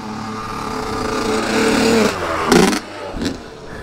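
A Z50 minibike runs on a homemade motocross track, its small engine buzzing and revving steadily up close, then a couple of sharp bursts and drops in pitch near the end.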